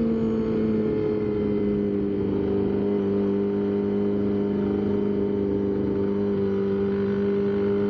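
Steady traffic on a road near Palm Beach, a continuous mid-level hum and whir of car engines and tyres with no distinct pass-bys, heard alone without voices.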